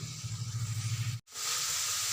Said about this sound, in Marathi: आता त्याच्यामध्ये मेथी टाकून घेते मेथी अशीच परतून घ्यायची